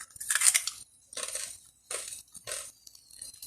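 Chicharrones (fried pork rinds) crunch loudly and close up as they are bitten and chewed, giving four separate bursts of crisp, crackling crunching with short pauses between them and no talk.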